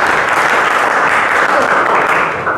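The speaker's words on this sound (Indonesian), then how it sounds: "Oke, bagus, tepuk tangannya." A classroom of students applauding a classmate's answer in a math lesson, a loud, dense wash of clapping that holds steady throughout and eases slightly at the end.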